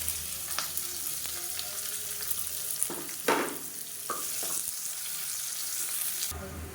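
Long-sliced large onions with curry leaves and mint fry in oil in a cooker, giving a steady close sizzle broken by scraping stirs and a few sharper clatters of the spoon.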